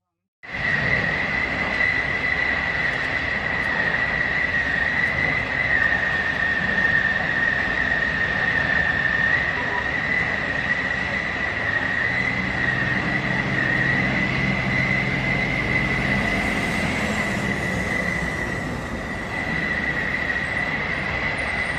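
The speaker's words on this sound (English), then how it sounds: "a truck crashed into a freight train, derailing tank cars carrying fuel" A freight train rumbles past steadily for a long stretch, with a continuous high metallic wheel squeal ringing above the heavy rolling noise.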